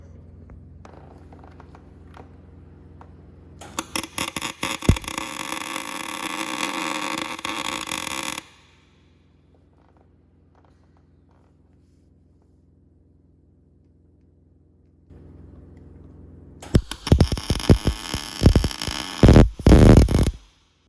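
Tack welds being burned into a limited slip differential, joining the gears to the cage: two loud bursts of steady crackling buzz, several seconds each, separated by a quiet pause.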